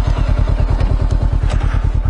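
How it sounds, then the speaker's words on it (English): A Honda CB500X motorcycle engine runs close by, pulsing in an even, rapid thumping rhythm like a loud, steady idle, with light clatter over the beat. "Love that motor, buddy."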